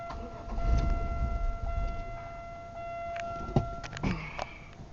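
A 1997 Chevrolet Malibu that will not start gives a short rumble as the key is turned, then a steady chime tone and a few clicks and thumps, with no engine catching and no voices.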